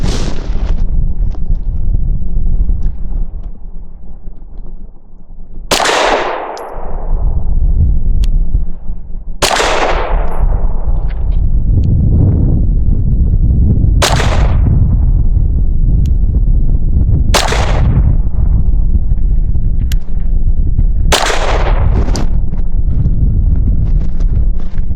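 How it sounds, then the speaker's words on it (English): Five sharp pistol shots from a compact CZ P-10C firing Blazer Brass 115 grain ball ammunition at 7 yards, each a loud crack followed by a decaying echo, spaced about four seconds apart over a steady wind rumble. "So for my 5-shot group from 7 yards, I'm just going to use some Blazer Brass 115 grain ball"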